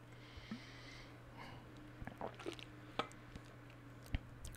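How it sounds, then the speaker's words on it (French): A few small sips of water taken close to the microphone in a quiet ASMR setting, giving soft wet mouth and swallowing sounds spread over a faint steady hum. "de boire un petit peu d'eau"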